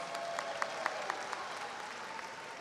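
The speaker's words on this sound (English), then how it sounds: "Give yourselves a round of applause, please." Graduates at a commencement ceremony applauding: a soft, distant wash of clapping from a large crowd with a few sharper individual claps standing out.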